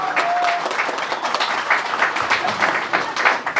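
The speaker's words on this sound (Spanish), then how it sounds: "Demos fuertes palmas a esa respuesta afirmativa." Wedding guests applauding at a ceremony after the couple's vows, a dense, steady burst of many hands clapping that carries on throughout.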